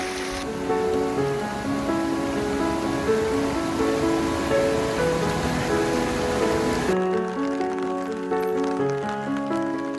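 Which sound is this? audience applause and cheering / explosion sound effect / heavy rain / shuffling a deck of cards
heavy rain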